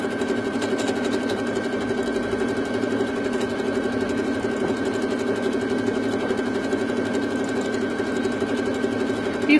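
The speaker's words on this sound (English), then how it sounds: "one thing I do like about the brother machines is you can sequence stitches as well, so you don't have to do a row of just one stitch" A Brother sewing machine runs steadily through a sequence of stitches, giving a continuous even mechanical whir with a fast rhythmic tick throughout, close and fairly loud with no talking.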